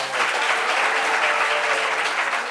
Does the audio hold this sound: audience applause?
yes